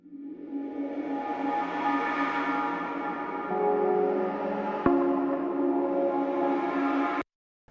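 Sustained synth pads for a pop rock production, layered with ambient reverb, hold steady chords at moderate loudness, with a slight swell midway and an abrupt cutoff near the end.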